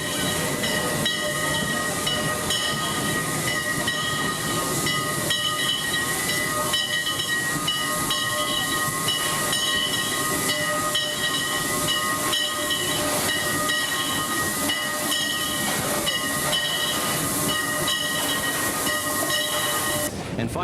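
A local train hauled by a locomotive from Sonsonate working the Sitio del Nino yard in El Salvador, giving a steady loud rumble and steam-like hiss with sustained whistle tones throughout.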